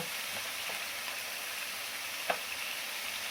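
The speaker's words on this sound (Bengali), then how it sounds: "এখানে পেটির মাছগুলো ভাজা হচ্ছে" Fish belly pieces fry in a pan at home, giving a steady, faint sizzle with an occasional soft clink of stirring.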